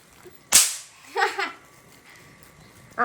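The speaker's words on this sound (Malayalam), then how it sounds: "കണ്ടോ പടക്കം" A firecracker bursts at a night temple festival ground with a sharp, loud crack, then a shorter muffled burst follows and another crack lands near the end, over quiet background.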